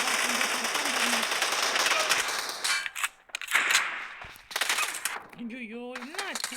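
BGMI team deathmatch gunfire crackles in dense rapid bursts, then drops out and returns in sharper volleys, with a voice talking over the later part.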